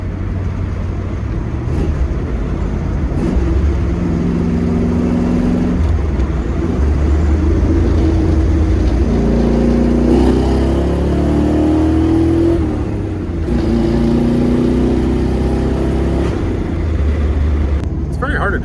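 A Ford Mustang with a manual gearbox and low 3.23 rear gearing, cruising in fourth gear with no power steering: a steady mid-pitched engine drone that holds level throughout, with voices talking over it.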